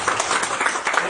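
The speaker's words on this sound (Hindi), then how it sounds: "जो भी कुछ अच्छा लगे तो ताली जरूर बजाइएगा" An audience applauding at a live stage performance, a dense, steady patter of many hands clapping together at close range for about a second.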